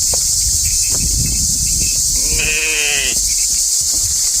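A sheep bleats once in a drawn-out, wavering call while being washed on a hot summer day, heard close over steady outdoor noise with insects and a hiss in the background.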